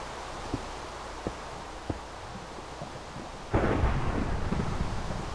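Thunder in Minecraft, a sudden loud rumbling crack breaking in after a few soft thuds over steady rain-like hiss, then rolling on for nearly two seconds.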